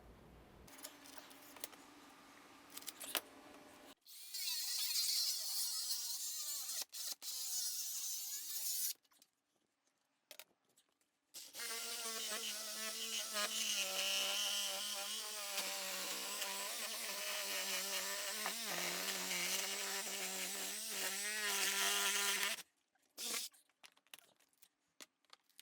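An old door frame being cut out with a power saw, making a continuous buzzing, grinding roar that runs for long stretches with brief pauses, loud and close.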